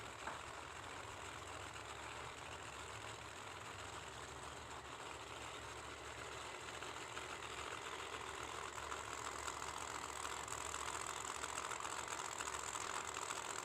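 A small-block single-turbo 1967 Camaro drag car idles at a drag strip, a steady, even engine rumble that holds for the whole stretch with a faint broadband hiss and grows slightly louder toward the end.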